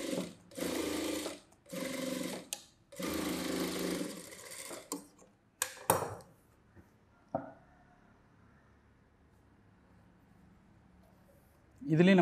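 A sewing machine stitches a saree blouse in several loud bursts of steady whirring over the first six seconds, then falls quiet into low room tone, with a short thump near the end.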